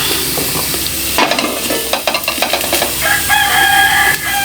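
Sautéing in a frying pan for a hotdog and corned beef dish: loud close sizzling with clattering spatula strokes, and a rooster crowing faintly in the background toward the end.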